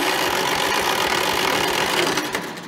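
An old Farmall tractor engine that has sat for many years runs rough and fuel-starved, a loud, continuous, uneven mechanical clatter close by with no talk.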